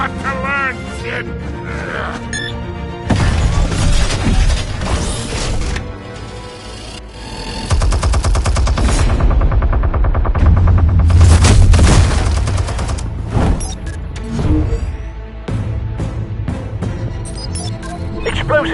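Video game gunfire and explosions on PS4 crackle in repeated loud bursts and booms, with rapid volleys and sharp impacts rising and falling over several seconds, while voices speak between the shots.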